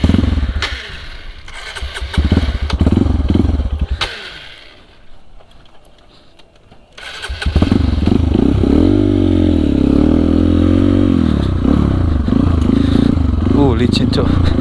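A Honda CRF with a bored-up engine revs and rasps on a grasstrack circuit, loud and close, rising and falling in pitch as it accelerates, with a brief quieter lull before a sustained roar returns.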